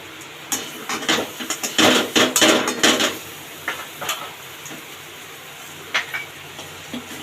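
Vegetables stirred with tomato sauce in a pan while stuffing is prepared for potoler dorma, giving a run of clattering scrapes and knocks of utensil against pan, busiest early then sparser, with no talk.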